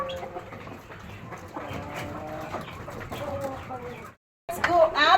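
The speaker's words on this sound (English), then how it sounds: "This is where I keep my laying birds" Laying hens and roosters on a poultry farm cluck and call in scattered bursts close by, with a person talking over them before a brief silence and a louder flurry of bird calls.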